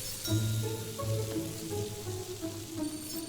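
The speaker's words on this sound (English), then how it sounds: "I'm going to take the chicken, I'm going to immediately put it into, hot oil and start frying it." Pieces of chicken sizzle and crackle as they fry in hot oil, giving a steady hiss with scattered pops at close range and no talking.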